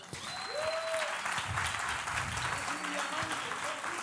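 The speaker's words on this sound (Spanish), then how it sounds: "Vamos a recibirla con un fuerte aplauso" A church congregation gives a warm round of applause, with continuous clapping from a crowd in a hall and voices and cheers rising over it.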